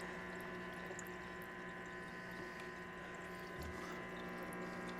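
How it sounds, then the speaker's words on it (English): A water pump runs in a homemade workshop heater while air is purged from the line, giving a steady, faint mechanical hum with low bubbling and gurgling throughout, no voices. "It's bubbling, so that we're getting air purged out of the line right now."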